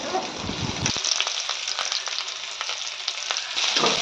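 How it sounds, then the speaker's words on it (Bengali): Chopped onions sizzle loudly in hot oil, a dense continuous frying hiss broken by sharp clicks of a spatula stirring against the pan, with no talking throughout. "তেলটা গরম হয়ে গেলে এবার এর মধ্যে দিয়ে দেবো পেঁয়াজ কুচি"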